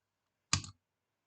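A single computer mouse click sounds once, short and close, in otherwise near silence.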